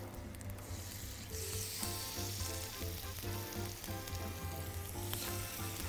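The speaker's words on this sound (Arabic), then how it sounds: "نبتدي نصدم الستيك كده مع بعض." Marinated steak with lemon and garlic sears in a pan over high heat, giving a loud, steady sizzle and spatter that holds throughout with no talking.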